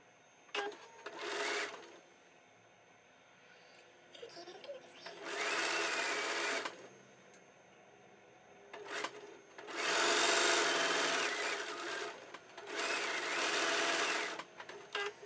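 A sewing machine stitches quilt sashing in several bursts of close, whirring mechanical running, with quiet gaps and handling sounds between runs.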